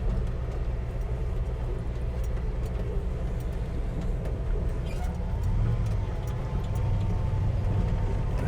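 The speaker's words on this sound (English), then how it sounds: "It does sound really rough." A Jeep Gladiator engine running rough, a steady, loud, low idle rumble with an uneven throb throughout, with no talking.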